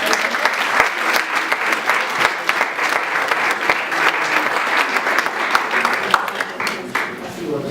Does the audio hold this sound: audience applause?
yes